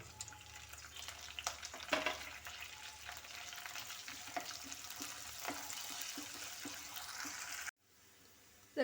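Ginger, garlic and curry leaves sizzle in hot oil for a chicken curry, a steady close frying hiss with occasional stirring scrapes, cutting off abruptly near the end.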